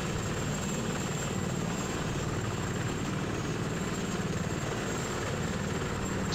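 Helicopters fly in the tank simulation game Steel Beasts, giving a steady, dense rotor thrum with constant engine drone throughout, heard alone without talk.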